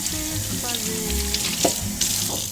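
Water streams steadily from a kitchen tap into a sink during dishwashing, splashing and hissing continuously while dishes clink briefly against one another, with no talking heard.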